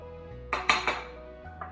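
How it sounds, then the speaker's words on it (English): Colourful chopped vegetables being mixed in a bowl for a healthy low-calorie vegetarian snack, giving three or four quick clinks of a utensil against the bowl over a low steady background hum. "Mix all colorful veggies into it."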